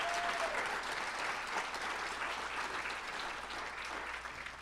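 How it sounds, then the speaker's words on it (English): Sustained applause from an awards-ceremony audience for staff and board, a steady wash of many hands clapping at moderate distance, fading slightly toward the end with no talk. "I would like you to give a round of applause to my staff and to the Board of Grad."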